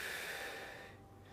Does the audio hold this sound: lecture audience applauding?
no